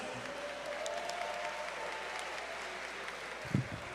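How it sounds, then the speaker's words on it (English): A crowd at a tribute event for Rev. Jesse Jackson gives a round of applause, a moderate, even wash of clapping heard from a distance, ending with a brief low thump. "One more round of applause for Yusef."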